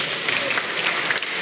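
Audience applause in a parliamentary chamber during a government address, a steady patter of many hands clapping at moderate volume, with no voices over it.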